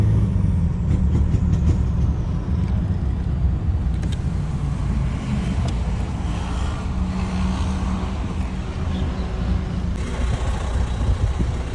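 A remapped stock-engined Mitsubishi Triton 4D56 four-door pickup with an aftermarket exhaust being driven, its engine giving a steady, close, loud low drone with road rumble throughout and no talking.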